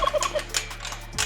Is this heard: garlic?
no